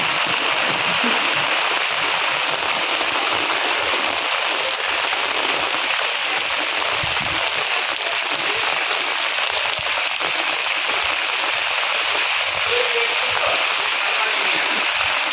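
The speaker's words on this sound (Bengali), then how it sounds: "কি হারে বৃষ্টি হচ্ছে তোমাদেরকে দেখাই।" Heavy rain pouring down continuously, a dense, even roar of falling water and splashing that stays close and loud throughout.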